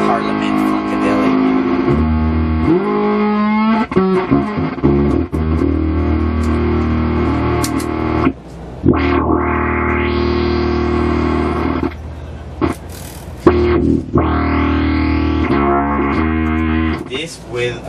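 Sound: bass guitar through synth effects pedal

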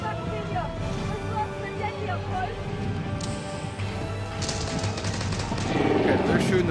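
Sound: gunfire in Warhammer 40K Battle Sisters video game

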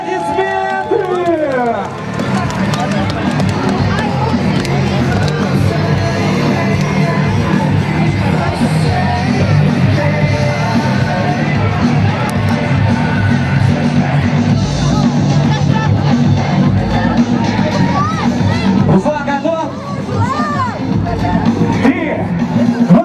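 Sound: crowd applauding and cheering at strongman contest

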